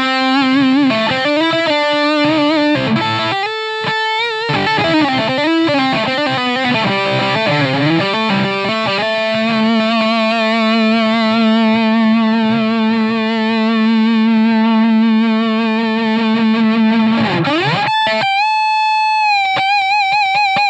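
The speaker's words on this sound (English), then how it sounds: "let's hear a little bit of messing around with the sustainer" Schecter Sun Valley Super Shredder electric guitar in Birch Green, played through a sustainer with distortion and effects: long held, gliding notes and bends ring out loud and close, with a sharp pitch slide near the end before a high sustained tone.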